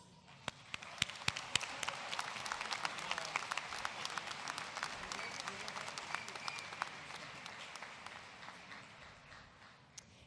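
A large crowd applauds steadily at a university fall commencement ceremony, dense sustained clapping heard from a distance in a big hall, with no talking over it.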